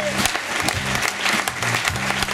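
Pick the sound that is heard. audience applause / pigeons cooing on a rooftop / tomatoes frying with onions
audience applause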